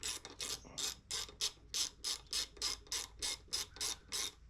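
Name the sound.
ratchet with 10mm socket loosening a bolt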